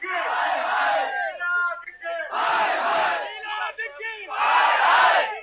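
A crowd at a political protest chants slogans against high electricity prices in loud, rhythmic bursts: three long chanted phrases separated by brief pauses, voices massed together close by.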